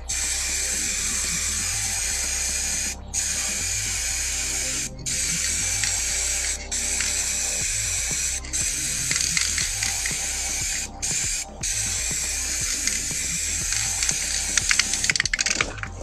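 Aerosol can spraying black paint from about 20 cm in long continuous hisses broken by brief pauses, close and steady, with no talking.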